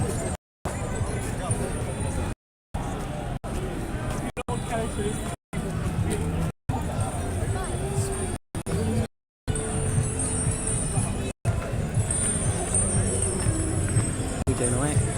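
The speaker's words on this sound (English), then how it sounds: "Pakistani crowd that's come over here just to get a bit of atmospherics and noise for the end" A Pakistani crowd at Speakers' Corner in London makes a constant babble of overlapping voices and street noise, steady and close, broken by several brief abrupt gaps.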